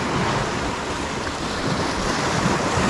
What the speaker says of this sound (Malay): Oh, dah ombak.